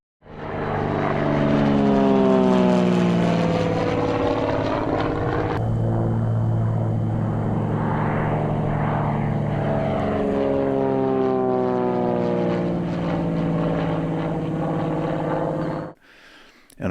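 Single-engine propeller airplane, a tandem two-seat trainer built on early Bonanza engine, wing and fuselage, drones steadily in flight, loud and close, with shifting harmonic engine tones and no talking, ending abruptly near the finish.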